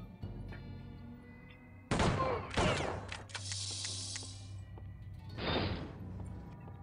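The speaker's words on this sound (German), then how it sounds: "Hinterrücks geschossen?" Gunshots fired from behind in the Western game Outlaws, two sharp loud cracks with ringing echoes roughly half a second apart, followed by a sustained rumble and a later softer burst over low background hum.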